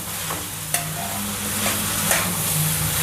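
A spoon stirs a thick aliv ladoo mixture with jaggery in a pan, a steady scraping and shuffling texture with a few sharper clicks of utensil against metal, close and continuous with no talking.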